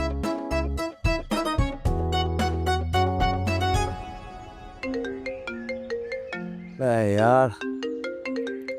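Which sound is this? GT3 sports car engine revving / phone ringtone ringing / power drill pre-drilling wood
phone ringtone ringing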